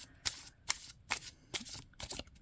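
Five quick riffling shuffles of a small tarot card deck, evenly spaced and fairly quiet, with no talking.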